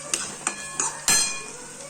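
Green and dry onions fry in a pan for a Gujarati tuver totha dish, under a soft sizzle with several clanks of a utensil against the pan.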